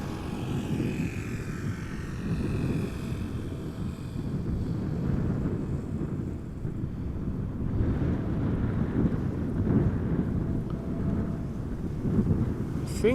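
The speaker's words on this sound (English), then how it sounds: "I think the wind is blowing from northwest" Steady wind buffets an outdoor microphone at Amsterdam Schiphol Airport, a continuous low rumbling roar that swells and eases slightly for the whole stretch with no clear breaks.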